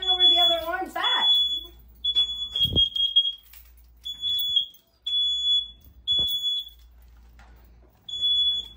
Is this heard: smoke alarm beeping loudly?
yes